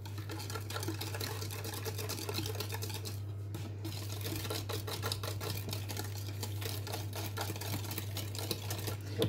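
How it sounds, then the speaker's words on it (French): Cake batter with flour is whisked in a Tupperware Speedy Chef hand-crank mixer: a continuous close whirring drone with fast, even ticking and rattling throughout, and no voices. "Je n'ai pas fini de la fouetter, mais vous voyez déjà la belle texture qu'elle a."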